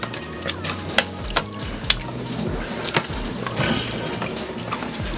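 Green beans with jowl bacon and garlic powder being stirred in a pressure cooker pot, with scraping utensil knocks and a soft sizzle over a steady low hum, no talking.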